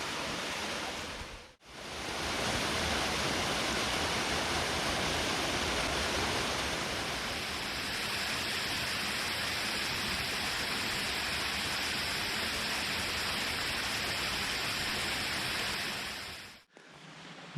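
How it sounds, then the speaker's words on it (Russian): A small waterfall on a mountain trail roars in a steady, dense rush of falling water, close and continuous, with a short break near the start and another at the end. "небольшой водопадик попадается первый"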